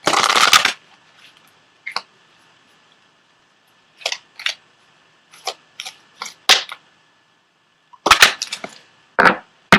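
Tarot cards being shuffled by hand: short crisp riffling bursts and snaps come in irregular clusters separated by quiet gaps, close and clear with no talking.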